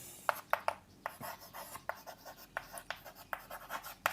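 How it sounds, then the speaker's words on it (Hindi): Marker or chalk writing on a board during a chemistry lesson: quick scratchy strokes and taps in irregular bursts, close and clear, with no speech. "तो अपन यहां लिखते हैं"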